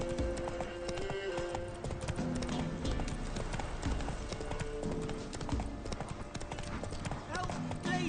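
Roach, the horse in The Witcher 3, trots along with a steady clip-clop of hooves throughout, mixed into a busy game soundscape with muffled background voices.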